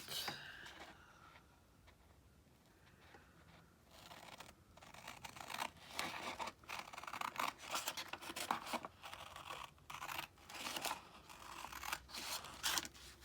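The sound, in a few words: scissors cutting paper for a journal page pocket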